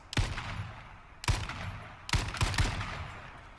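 Gunshots fired in the H1Z1 battle royale game: three separate sharp, loud bursts about a second apart, each with a short echoing tail, no voices.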